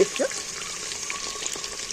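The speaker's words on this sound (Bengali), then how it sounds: "ডিমটাও ভাজা ভাজা হয়ে গেছে" Egg and potato pieces frying in a pan, giving a steady soft sizzle with a few bright crackles near the start and no talking.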